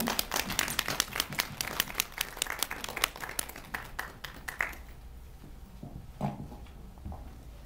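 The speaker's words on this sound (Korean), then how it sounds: "큰 박수 부탁드릴게요" An audience at an indie film talk for the Korean film 'Communication and Lies' applauds the director and lead actor, with dense clapping for about five seconds that thins to a few scattered claps.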